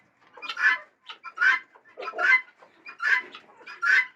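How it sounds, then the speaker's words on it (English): Chickens clucking inside a chicken house on a small farm, a series of close, distinct clucks and short calls in an irregular rhythm, with no talk. "the chicken there actually laying eggs at the moment"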